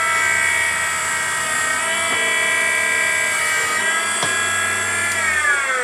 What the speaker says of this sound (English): switch it on, bring it onto the cutting disc, nice and slow